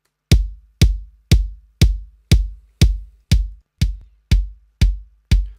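Cardboard boxes struck and processed to sound like rock drums: eleven evenly spaced, loud, punchy hits about half a second apart, each with a deep thump and quick decay, alone without voices.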